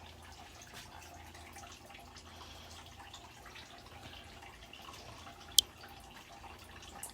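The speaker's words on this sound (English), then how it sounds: "turn that drip off because that's annoying" A kitchen faucet drips while biscuit dough is made: one sharp, bright drop lands clearly against an otherwise quiet room with faint background hum.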